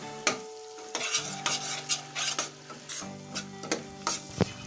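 Masala with ginger powder and dried kasuri methi is roasted in a pan for lauki kofta curry, spoon scrapes and taps against the pan at an irregular pace over a faint sizzle, close and fairly quiet.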